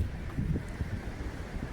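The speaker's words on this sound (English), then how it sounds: "It's kind of windy out here as usual." Wind buffets a phone microphone outdoors in a park, producing continuous low rumbling gusts and irregular thumps close to the mic, with no talking.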